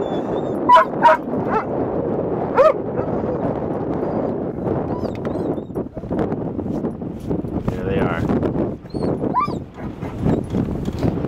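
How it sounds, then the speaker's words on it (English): A dog on a boat yips and barks in short bursts, with some whimpering, close by and mixed in with steady background noise and a person talking. "On a boat. Dog on a boat."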